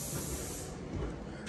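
A paint sprayer gives a steady, close, broadband hiss while coating pre-primed one-by trim during a house renovation in Akron, Ohio. The hiss runs continuously with no talk.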